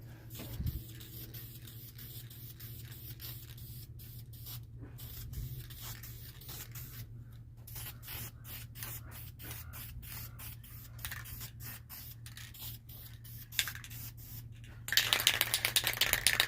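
Spray can laying gray primer onto a rear sway bar for a 1981 Mustang, a soft continuous hiss of fairly low level that runs throughout, turning louder and harsher in the final seconds.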